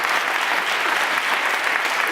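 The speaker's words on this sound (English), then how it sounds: "So let's give another round of applause for my father." An audience at a get-out-the-vote event claps for the speaker's father, with loud, continuous applause at a steady level throughout the clip.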